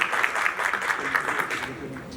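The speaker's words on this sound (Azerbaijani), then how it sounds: "Zəhmət olmazsa, alqışlarınızla." Audience applause at an international food and agribusiness forum, a short burst of many hands clapping in a hall that tapers off over about two seconds.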